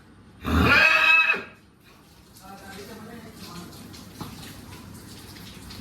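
A horse at a Gujarati stable gives one loud, close whinny lasting about a second near the start, followed by quieter, faint ambient outdoor noise.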